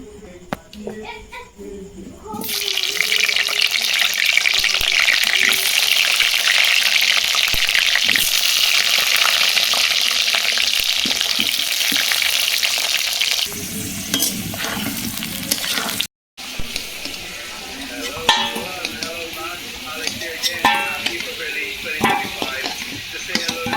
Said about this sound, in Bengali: দিয়ে দেবো এর মধ্যে টুকরো করে রাখা আলু আর আলুগুলো লাল লাল করে ভেজে নেবো